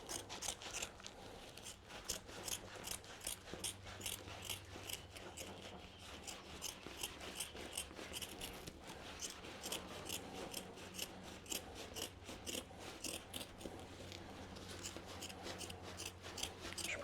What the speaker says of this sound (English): These shears work so much better. Just kind of go along your cut line.